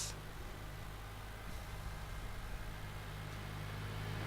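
A car engine idles steadily in Farming Simulator 19, a low constant hum with a faint hiss, held at moderate distance throughout with no other sounds.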